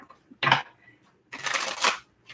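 Tarot cards being shuffled by hand in two bursts, a short crisp riffle followed by a longer rustling shuffle, close and fairly loud with quiet gaps between.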